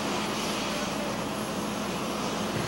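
An airplane lands at NAIA Terminal 3 in the afternoon with a steady, loud, broadband engine roar that never lets up. No voices are heard.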